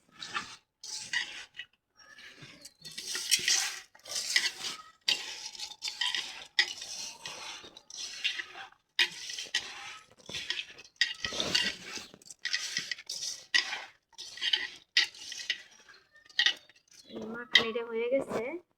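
Khichuri ingredients are mixed with oil by hand in a pot, a close series of wet rubbing, squelching and scraping strokes against the metal. A voice briefly sounds near the end.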